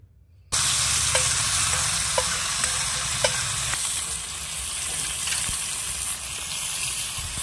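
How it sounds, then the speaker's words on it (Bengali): Mashed eggplant drops into hot mustard oil with black cumin seeds in a wok, setting off a loud, continuous sizzle with occasional stirring clicks that runs the whole length. "এবার মেখে রাখা বেগুনটা দিয়ে দিচ্ছি কড়াইয়ের ভেতর।"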